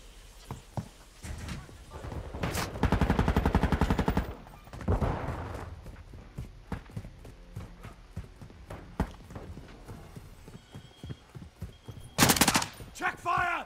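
Enemy gunfire in Call of Duty: Modern Warfare II: bursts of rapid automatic fire and scattered single shots, loud and close at times, interleaved with distant shots and brief radio voice callouts.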